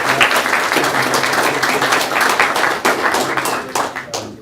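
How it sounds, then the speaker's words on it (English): Audience applause at a county board of education meeting for student basketball players: dense, steady clapping from many hands fills the room, loud and continuous before tapering off at the end. "Let's give them a round of applause."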